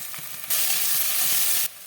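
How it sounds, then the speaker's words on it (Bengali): Fried eggplant mash with ginger, garlic and chili paste is stirred in a hot pan; a short, loud hissing sizzle surges for about a second, bracketed by quieter cooking noise. "ভাজা দিয়ে দিলাম বেগুন ভাজাটা ভালো করে নেড়ে চেড়ে এরকম করে একদম গুঁড়ো করে দেবো"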